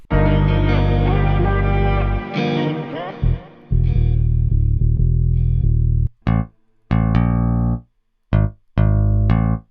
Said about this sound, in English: I just penciled it in this bass melody, or this bass line